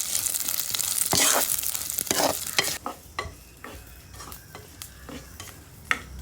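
Onions sautéing in a pan over a wood fire, a loud sizzle with scraping stirs that settles into quieter frying broken by repeated spatula clacks, no voices.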